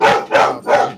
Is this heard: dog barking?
yes